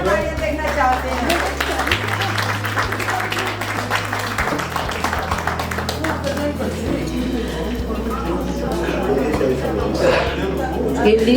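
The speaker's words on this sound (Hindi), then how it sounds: "डॉक्टर साहब के लिए एक बार जोरदार तालियां देखना चाहते हैं।" Audience applause at a literary honours ceremony for visiting writers from Bhutan, a steady wash of many hands clapping that continues for several seconds over a low sustained hum, with a voice speaking through it.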